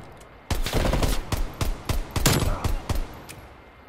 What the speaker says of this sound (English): Oh, I shot the guy with a pistol!